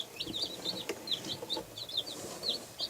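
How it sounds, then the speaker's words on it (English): Newly bought pet chicks, including an Orpington, cheeping in a brooder, a rapid run of high-pitched peeps repeating close by over faint background rustle. "These are our new pet chickens"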